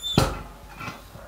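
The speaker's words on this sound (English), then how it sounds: "So I always close this door first." A single sharp metal clunk as the door of a DS Anthra-max 15 anthracite coal stove swings shut, followed by a short low rattle and quiet room tone.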